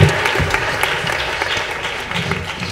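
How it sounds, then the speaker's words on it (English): A crowd at a Rhodes University Open Day gathering applauds in a continuous, even burst of clapping that stays full and close throughout. "So give yourself a round of applause"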